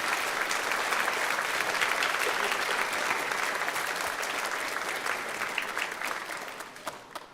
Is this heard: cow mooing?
no